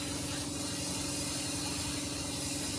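An aerosol spray can misting paint onto Revell Ferrari Formula One model car parts still on their sprues, one continuous close hiss with a faint steady hum underneath.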